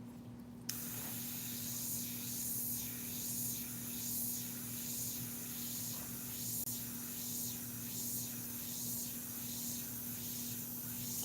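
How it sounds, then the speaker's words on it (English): An airbrush spraying Createx paint onto synthetic paper for an American eagle painting, a steady continuous hiss that runs unbroken at even loudness over a constant low hum. "Just hitting the same, just swinging the airbrush over that little hole in the painting."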